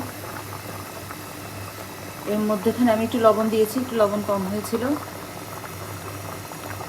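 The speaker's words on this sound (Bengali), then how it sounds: "এই যে দেখেন এটা ফুটছে" Chicken liver curry bubbles in a pot as it simmers, a soft steady boil running under a person talking throughout.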